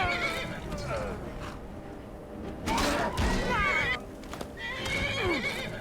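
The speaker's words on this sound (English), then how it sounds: "My horse is really strong." A horse in modded Skyrim whinnies and neighs loudly up close, with clip-clopping hooves and thuds around it, set against a busy game soundscape.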